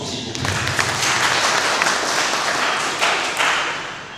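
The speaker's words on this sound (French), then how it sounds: "Mais il mérite nos applaudissements, s'il vous plaît." Audience applause at the Msem Todjom festival at the Bandjoun chiefdom: a dense, steady wash of clapping hands from a crowd, with a few sharper claps standing out, fading slightly at the end.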